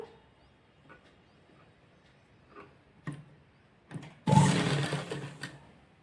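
A sewing machine stitches a double-folded strip of lehenga fabric, starting with a few scattered clicks and taps before a loud, dense burst of running stitches near the end.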